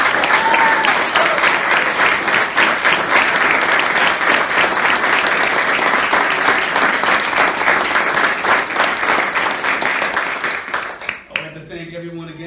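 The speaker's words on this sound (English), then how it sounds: "please join me one more time for applauding and officially congratulating our four newest police officers" An audience applauds at a police swearing-in ceremony for new officers, dense sustained clapping filling the room before fading out near the end, where a voice begins to speak.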